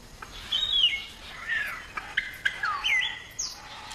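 Palm cockatoos call back and forth at their nest hollows, a series of short whistled and rasping calls trading at irregular intervals, moderately close and clear over faint background.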